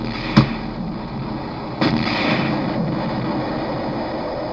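Rocket launcher blasts in the video game Muffin Kombat Rewritten: two sharp booms a second or so apart over a constant rumbling game backdrop.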